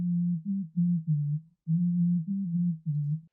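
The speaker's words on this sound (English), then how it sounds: "Just so you know what this frequency sounds like, I'll solo the band." Soloed low-frequency EQ band of a vocal in FabFilter Pro-Q 3, a dull, steady low hum that follows the sung phrases in five or six sustained segments with a short gap midway, loud and alone.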